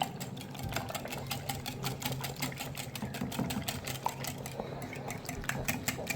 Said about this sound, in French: pour mélanger, je vais utiliser le fouet